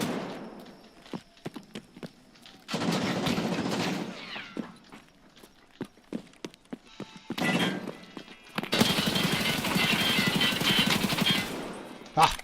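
Video game gunfire from a weapon fired from the hip: two long, dense bursts of automatic fire with scattered single shots and thuds between them, moderately loud.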